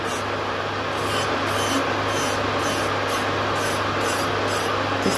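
A nail e-file drill spinning at 23,000 RPM on gel nails, with a dust extractor running on its middle setting, gives a steady close whirring hum and hiss, with rhythmic grinding passes pulsing about twice a second.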